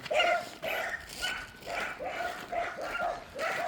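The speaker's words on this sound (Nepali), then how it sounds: "हात तेरिका कति भुक्यो र" A dog near a ridge-top walking trail keeps barking in a steady string of sharp yaps and barks, moderately loud and heard alone without talk.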